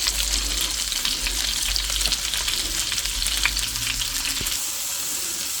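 Homemade lemon pepper chicken patties frying in a pan, giving a steady, close sizzle with crackles and a few light clicks, under a low rumble that stops near the end; no speech.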